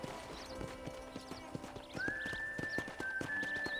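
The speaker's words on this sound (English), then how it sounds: "I picked out a fine horse for you." Steady clip-clop of horse hooves at a walking pace on a ranch in Red Dead Redemption, joined midway by a long whinny, with faint ambient background.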